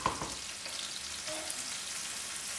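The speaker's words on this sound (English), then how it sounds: "So I'll fry the onions" Onions frying in a pan give a continuous close crackling sizzle, even and steady throughout the short stretch, with no voices.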